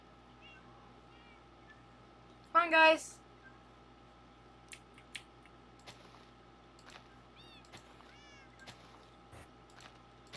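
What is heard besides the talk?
cats meowing in a Minecraft video game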